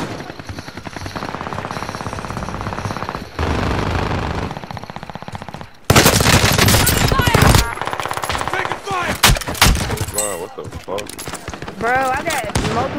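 Gunfire and sniper shots in a multiplayer shooter video game: rapid bursts of automatic fire and sharp single cracks, loud and near, with players talking over the shooting much of the time.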